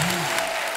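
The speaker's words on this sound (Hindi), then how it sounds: "एक जोरदार तालियां हो जाए यार" Studio audience applause on the set of The Kapil Sharma Show, a loud, dense burst of clapping from a crowd, brief and continuous, with a faint voice fading under it at the start.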